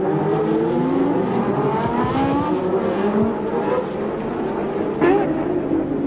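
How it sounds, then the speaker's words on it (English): Formula One cars from 1983 roar past on a street circuit in a midfield battle, engines loud and rising in pitch, with crowd-level background and commentary running over the top. "Guerrero with the Theodore goes past Riccardo Patrese with the Parmalat Brabham."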